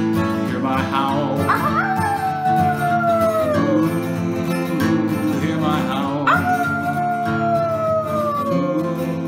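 A voice imitates a wolf howl twice, long gliding wails falling in pitch over a sustained musical accompaniment.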